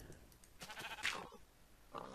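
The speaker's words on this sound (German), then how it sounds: "Beiden Schafe sind noch da." A few soft sheep bleats from the video game Minecraft, faint and quiet, with brief pauses between calls.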